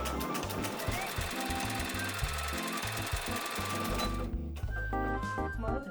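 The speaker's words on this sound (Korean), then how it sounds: "원단을 움직일 필요 없이 가로 재봉 기능을 활용해 보세요." Brother NV2700 computerized sewing machine running its sideways stitch function, a loud close mechanical whirring and rhythmic needle thumping that changes pattern partway through, alone without talk.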